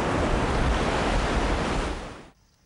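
Surf breaking on the Arabian Sea shore by Khalouf village in Oman, a loud continuous wash of waves that fades out abruptly near the end.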